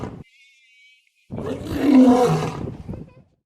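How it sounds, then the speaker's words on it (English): A lion, introduced as an African animal, gives a loud, full roar lasting about two seconds after a short pause, swelling to a peak and then fading. "Lion,"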